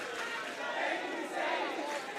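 Loud, steady roar of an electric crowd in a high school boys basketball gym, Cardinal Hayes versus Stepinac, sustained cheering with slight surges, with speech faintly mixed in.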